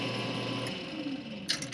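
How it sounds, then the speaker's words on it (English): A drill press runs steadily while lapping an engine valve against its seat on a 1979 Bronco's turbo LS build, a continuous mechanical whir with a faint grinding rasp and a brief sharper clatter near the end. "shut our drill press off, take a look at it."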